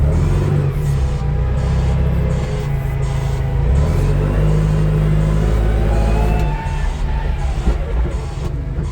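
A Toyota 8FG50N gas forklift with dual front wheels and a 5-tonne capacity revs under throttle. The loud, steady engine drone climbs in pitch, holds, then eases off briefly near the end.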